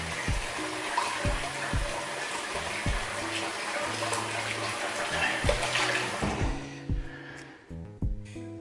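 Water splashes and trickles as a man wets his face before a wet shave with lathered puck soap, a steady close splashing that runs for several seconds and then thins to a few drips and light handling noises.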